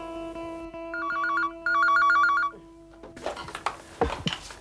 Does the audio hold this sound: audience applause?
no